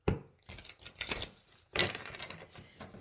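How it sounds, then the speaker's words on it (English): Quick bursts of crisp riffling and tapping as a deck of tarot cards is shuffled, in two or three short runs close to the microphone. "I'm going to shuffle just a few times"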